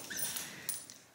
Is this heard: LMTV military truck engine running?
no